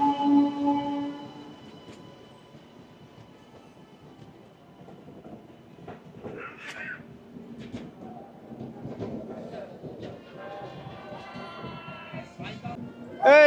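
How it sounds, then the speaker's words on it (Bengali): A Rajdhani Express pulls out of its station bound for Sealdah, giving a low steady rumble of rolling coaches with faint clatter and brief higher squeals, the noise swelling toward the end, while people talk in the background. "এই জাস্ট বেরোলো, বেরিয়ে গেল আমাদের রাজধানী এক্সপ্রেস শিয়ালদার উদ্দেশ্যে।"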